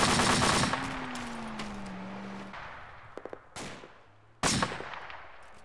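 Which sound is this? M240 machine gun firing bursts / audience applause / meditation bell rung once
M240 machine gun firing bursts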